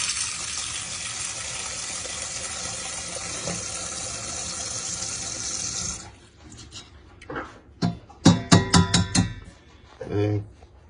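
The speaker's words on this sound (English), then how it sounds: "Pour a little cold water on it." Cold water from a tap poured over a warm, freshly cooked egg from a Cuisinart egg cooker, a steady close gush for six seconds, then stopping into a few short splashy bursts and handling noises.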